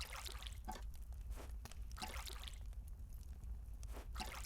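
Water poured in the hidden-object adventure game Grim Legends 2 trickles and drips faintly, in uneven bursts of splashing over a low background hum.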